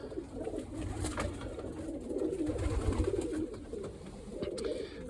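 Pigeons coo in soft, low repeated murmurs while feeding two squabs, the cooing steady and close with faint rustling and a few brief clicks, no talk.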